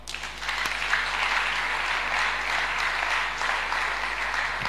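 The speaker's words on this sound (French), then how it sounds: "Et nous l'acclamons." A church congregation applauds after a sermon, a steady dense clapping that fills the room and holds at an even level throughout.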